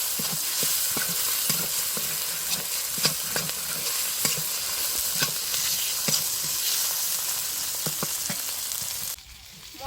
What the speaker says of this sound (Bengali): একটু ভাজা করে নিই